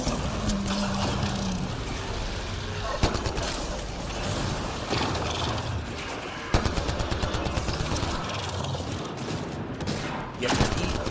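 Dense, continuous game combat noise from Mass Effect Andromeda, with the Cobra heavy weapon and other guns firing in rapid bursts and booms, keeps a loud, busy, layered texture throughout.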